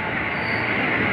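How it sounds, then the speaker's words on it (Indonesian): A twelve-car KRL commuter electric train bound for Bogor at Depok Baru station gives a brief, steady, close rolling rumble with a thin metallic hiss and no voices. "Ini adalah KRL yang ke Bogor."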